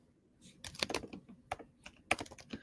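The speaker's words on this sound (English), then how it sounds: "I'm just typing in the chat." Typing on a computer keyboard during a live online Q&A: irregular bursts of close, crisp key clicks, quiet and unaccompanied by speech.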